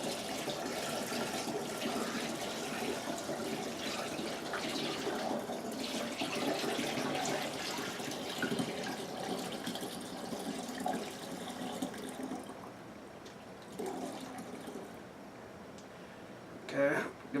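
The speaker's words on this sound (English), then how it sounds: "Now the tricky part is pouring the wine must without making a mess all over." Homemade wine must is poured from one jug into another in a small-batch winemaking setup, giving a steady liquid gush that tapers off into a few trickles and clunks near the end, while people talk.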